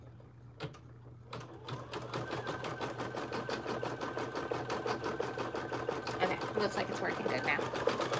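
A home embroidery machine stitches steadily in rapid, even rhythm, restarting a design step after a failed stitch; its clatter runs close and continuous while a person speaks briefly over it.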